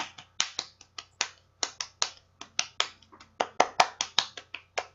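Audience members clap their hands in a regular pattern to imitate wind and rain, producing sharp, distinct claps in an uneven rhythm with brief gaps, fairly close and without talk.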